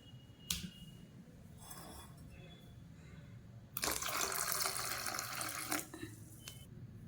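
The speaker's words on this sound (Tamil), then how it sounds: "சட்னியில் கொஞ்சம் நான் வந்து தண்ணி வந்து ஒரு கிளாஸ் வரை ஊற்றிக்கிறேன்." Water splashes and gurgles into spicy chutney, a brief trickle first, then a steady, loud pour of about a glass lasting a couple of seconds, close by.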